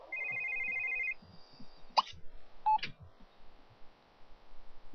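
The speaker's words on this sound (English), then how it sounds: "Her phone is ringing." A phone in The Sims 3 video game sounds with a short electronic tone burst followed by a couple of brief beeps and clicks, fairly quiet against faint background noise.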